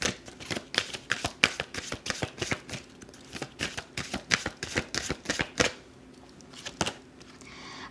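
Tarot cards being shuffled by hand during a reading, a rapid run of crisp riffling flicks and snaps, close and fairly quiet, tapering into a few scattered taps.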